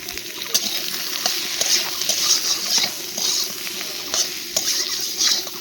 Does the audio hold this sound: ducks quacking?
no